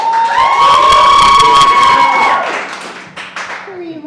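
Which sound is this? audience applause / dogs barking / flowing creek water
audience applause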